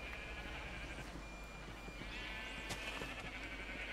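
Sheep bleat in the block-building game Minecraft, several overlapping calls from a flock at moderate distance under a steady background hiss, with no talking.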